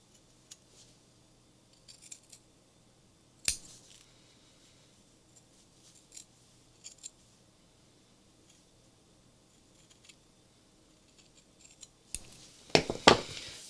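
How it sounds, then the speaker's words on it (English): Quiet, scattered snips of scissors trimming felt, a few sharper closes standing out, ending in a cluster of louder snips. "my scissors are kind of flat as I'm doing this so that I can trim the felt without catching the ribbon"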